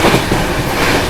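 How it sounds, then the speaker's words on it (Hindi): A brief stretch of loud, dense rumble and clatter from inside the Paschim Express, an Indian train running at about 130 km/h. The noise stays steady and close, with no talking. "अभी देखो पलवल निकलने के बाद फिर से 130 के अराउंड स्पीड मेंटेन कर ली है अपनी ट्रेन ने"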